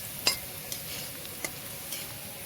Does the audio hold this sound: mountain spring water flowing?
no